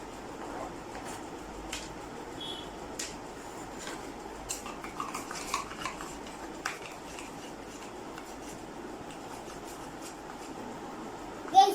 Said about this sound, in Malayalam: ഈ ഐറ്റംസ് എല്ലാം ഞാൻ ഈ ബോളിലൊക്കെ ഇട്ട് കൊടുത്തിട്ട് ജസ്റ്റ് മിക്സ് ആക്കി കൊടുക്കാം.